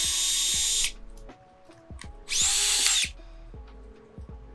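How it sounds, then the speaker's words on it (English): A power drill drives self-tapping screws into a kayak hull, two loud bursts of whirring spin roughly a second each separated by a quieter gap with small knocks and handling sounds. "I'm going to use my drill."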